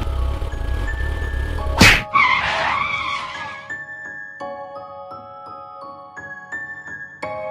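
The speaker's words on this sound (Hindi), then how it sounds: "बाइक को अचानक से रोक देते हैं" A cartoon motorbike brakes suddenly with a sharp impact and a loud, brief tire skid and screech, then trails off under steady background music tones.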